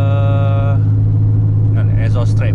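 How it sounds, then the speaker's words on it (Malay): Close and loud, the straight-piped 3-litre engine of a BMW E39 drones steadily while driving on the road. Someone talks over the exhaust note throughout. "So paksalah on the road dengan bunyi bising macam ni."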